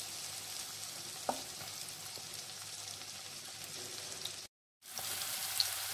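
Capsicum sautéing in melted butter over a low flame, a soft continuous crackling sizzle with an occasional utensil tap and a brief cut to silence near the end.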